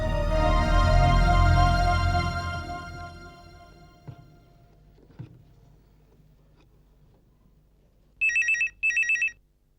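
A telephone gives two short electronic ringing bursts near the end, after a fading musical sting and a couple of soft knocks in a quiet room.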